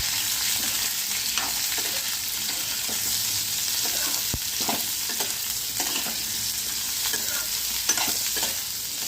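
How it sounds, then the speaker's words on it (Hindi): Coarsely chopped onions fry and are stirred in a pan for shahi paneer, giving a steady close sizzle with occasional clinks and scrapes of a spoon throughout. "ये मेरी मोटी मोटी कटी हुई प्याज मैंने इसमें डाल दी, और थोड़ी देर इस प्याज को भी भूनेंगे"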